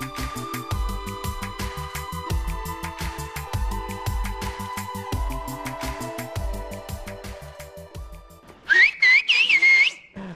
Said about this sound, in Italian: Ah, qua fischiano tutti, ragazzi.